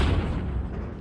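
Airstrike explosion in Tehran: a heavy, dense roar of blast rumble filling the whole short stretch, loud and sustained without distinct separate bangs.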